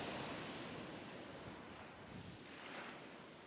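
Stormy sea waves breaking on the shore at a Livadia beach in Crimea, a continuous roaring wash of surf with wind noise, swelling louder as a new wave crashes near the end.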